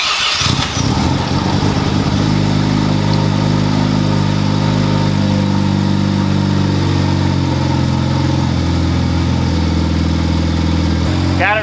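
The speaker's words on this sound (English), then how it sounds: "So we're gonna fire her up," Mazda FD RX-7 rotary engine cranking and catching after a fuel pressure regulator install, then settling into a loud, steady, buzzy idle up close with strong low-pitched pulses throughout.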